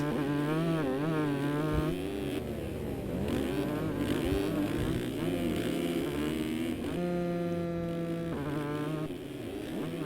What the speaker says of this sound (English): that 2-stroke is really loud out there. You can hear it clear on the other side of the track.